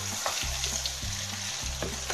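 Mixed vegetables and peas sizzle and fry in a pan for Mughlai vegetable dum biryani, a steady hiss broken by a few stirring scrapes and clinks, close and alone with no talk.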